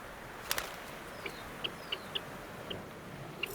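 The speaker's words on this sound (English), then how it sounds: "Do you hear the bird talking now?" A bird gives a series of short, faint high chirps at irregular intervals over steady background hiss, with one sharper click early on.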